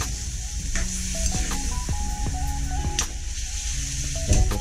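Chicken afritada sizzles steadily in a pan as it is stirred, a constant close hiss with occasional utensil scrapes and background music notes threaded through.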